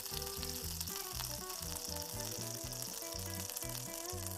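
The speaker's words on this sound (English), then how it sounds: "While koftas are frying" Koftas sizzle and fry steadily in hot oil in a pan, a continuous crackling sizzle with a rhythmic low pulsing underneath, close and even throughout, no voices.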